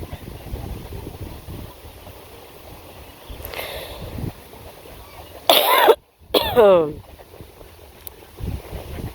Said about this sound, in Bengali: ঠান্ডা লাগছে না, কাশি আহি